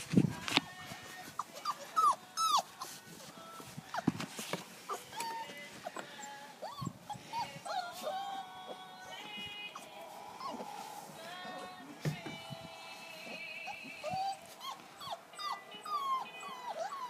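Several puppies whimper and yip in overlapping high-pitched cries, close and fairly continuous, with occasional sharper squeals and light handling noises.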